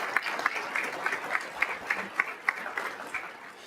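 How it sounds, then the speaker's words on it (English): Moderate applause from an audience honoring veterans at an aviation scholarship ceremony, a light, continuous clapping with a few sharper individual claps popping out of the room sound. "How about a round of applause for all of their service?"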